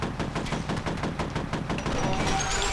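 An assault rifle fires a sustained rapid burst in the video game F.E.A.R. Extraction Point, a dozen or so sharp evenly spaced shots that are loud and close, followed by a short lingering tail.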